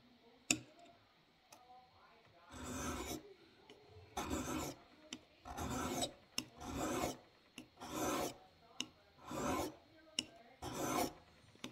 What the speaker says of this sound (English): This little stone is the perfect size to sharpen this part of the tanto edge.